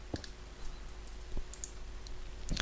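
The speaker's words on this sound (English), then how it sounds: "You might hear the keyboard clacking away." A computer keyboard clacks with sparse, scattered key taps over a low steady hum, including a few louder sharp clicks from one broken key, faint and close with no voices.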